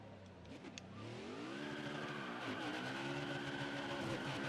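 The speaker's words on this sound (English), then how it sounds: "this truck is so hard to do a burnout on without hitting the wall" A NASCAR truck doing a burnout in the NASCAR Heat 5 video game, its engine revving up and holding a rising, sustained whine with tire noise, fairly faint, with no speech.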